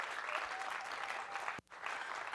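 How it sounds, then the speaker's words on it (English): An audience applauds steadily at a TEDx talk event at Vanderbilt University, a dense wash of clapping with a brief dip near the end before it resumes. "Let's give Natalie another round of applause, please."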